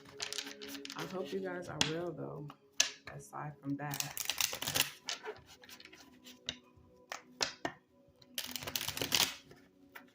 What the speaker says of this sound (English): Let me just shuffle all my decks.